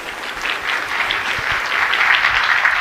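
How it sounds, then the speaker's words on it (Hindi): Audience applause welcoming Anita at a public gathering, a dense, steady patter of many hands that swells slightly toward the end. "अनीता का ताली बजा के आप स्वागत"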